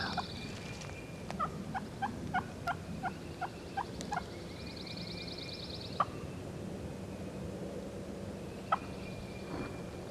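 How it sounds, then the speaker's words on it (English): A wild turkey gobbles from a tree limb at dawn, a distant rattling gobble over a faint outdoor hiss, followed by sparse bird chirps and a couple of sharp clicks. "He's turned on the limb gobbling that one."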